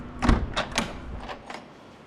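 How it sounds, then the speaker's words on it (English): A few thuds and clunks of an unrestored 1963 Chevrolet Corvette Split Window door being worked, one solid slam followed by lighter knocks, close by with no talking. "the doors open up very well. They close nicely too."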